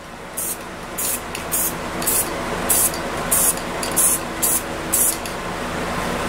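Lacquer is sprayed onto a carved wooden sign in about nine short, evenly spaced hissing bursts from a spray can, close and fairly loud over a steady background hum.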